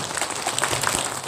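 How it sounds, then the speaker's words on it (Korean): Audience applause at a political event in Mokpo, a dense, steady patter of many hands clapping without a break. "우리 정필모 의원님께 박수 한번 부탁드립니다."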